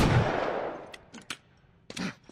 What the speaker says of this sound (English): That guy has a machine gun or something,